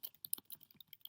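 Typing an email address on a computer keyboard, a quiet run of quick, uneven key clicks close by, with no talking.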